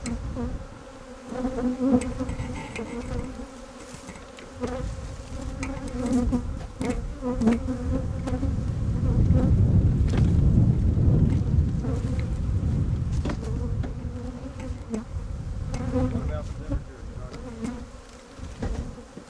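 Dense honeybee buzzing fills the air, a constant swarm hum that swells louder in the middle, with soft rustling underneath.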